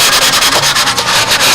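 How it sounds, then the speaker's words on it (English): Sandpaper lightly scuffing doped model airplane wing panels to knock down high spots, a close, steady rasping rub in quick repeated back-and-forth strokes with no talk. "Just the slightest sanding on each panel will do it."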